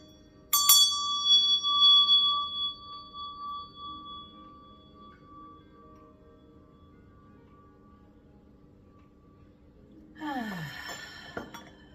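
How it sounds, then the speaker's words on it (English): A meditation bell struck once rings out clearly and decays slowly over several seconds into near silence, followed later by a soft rustle and a brief clink in a quiet room. "I'm going to ring my bell first today and then light my incense"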